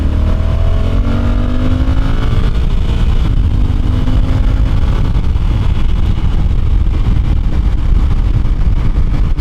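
A Honda Africa Twin DCT parallel-twin motorcycle accelerating onto a highway, its loud close engine drone rising through smooth automatic gear shifts over heavy wind rush.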